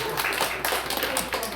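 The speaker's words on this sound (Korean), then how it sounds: "우리 주일학교를 위해서 박수 한번 쳐주십니다." A church congregation during a Sunday service claps together briefly, giving a soft, moderately distant patter of hands in short bursts filling the hall.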